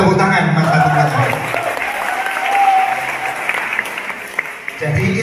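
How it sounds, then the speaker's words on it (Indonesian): An assembled audience at MAN 1 Blitar claps at a steady level under a speaker's amplified voice, and the applause thins toward the end. "Tepuk tangan Man 1 Blitar."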